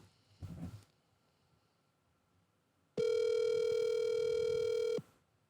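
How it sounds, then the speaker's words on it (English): A single sustained electronic phone tone sounds for about two seconds, clear and steady, after a brief muffled noise and near silence. "Why would a dead man's phone be ringing?"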